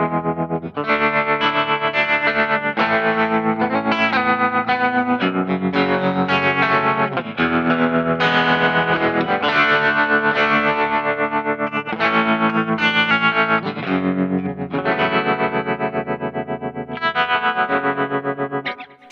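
An electric guitar plays through a small amp with reverb and effects added, giving a full, distorted tone. Chords are sustained and re-struck in a steady flow for about nineteen seconds, with no talking.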